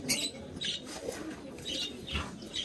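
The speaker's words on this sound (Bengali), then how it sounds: "এটা খুব পছন্দের কবুতর" Beauty pigeons at a market, with soft cooing mixed with several short bursts of wing flapping, fairly close and moderately loud against a busy background.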